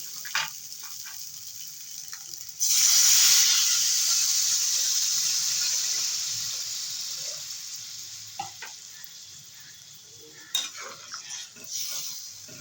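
Liquid is poured into a pan of pabda fish curry with ginger and cumin paste, giving a loud sizzling hiss that gradually fades, followed by faint stirring and utensil clinks.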